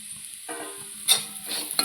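Spice powders, fenugreek powder and garam masala among them, are stirred and roasted in a hot pan, giving a soft, close frying sizzle with a few short scraping stirs.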